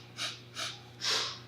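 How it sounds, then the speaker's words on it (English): Three quick sniffs in through the nose during a Kundalini yoga breathing exercise, close and soft, the last one longer and stronger. "take 3 sniffs"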